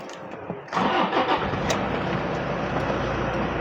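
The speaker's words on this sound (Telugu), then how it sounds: "సో బండి వెహికల్ అనేది స్టార్ట్ చేస్తా." A 2015 Toyota Innova V seven-seater diesel with a five-speed manual gearbox cranks briefly, catches, then settles into a steady, loud, close diesel clatter at idle.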